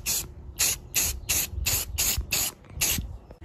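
Spray paint laid on as a second light white coat over an R2-D2 dome, eight short, sharp hissing bursts from a spray can separated by brief pauses, close and fairly loud.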